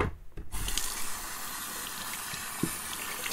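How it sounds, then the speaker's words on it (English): Tap water runs steadily into a sink while a face is wetted before wet shaving, a continuous close rushing splash starting after a brief quiet moment, with no talking. "I'm going to wet my face"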